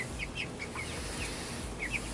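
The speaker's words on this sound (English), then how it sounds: "Happy little meat chickens." Soft, scattered clucks and chirps from meat chickens over a steady background hiss, fairly faint and distant, with no one talking.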